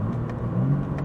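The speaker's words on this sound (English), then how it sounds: "Listen to those burbles here." Low, rumbling exhaust burble with uneven pops from a tuned BMW M3 Touring, steady and fairly close, no voices.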